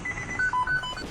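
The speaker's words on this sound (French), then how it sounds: "Ah, oups, pardon, c'est mon téléphone." A mobile phone chirps a quick run of four short electronic tones, close and clear, with a faint hum in the background.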